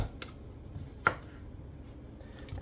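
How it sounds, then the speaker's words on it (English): A knife slicing beetroot on a board, a few sparse, quiet chopping taps with one sharper cut in a quiet kitchen. "You're gonna slice the beetroot."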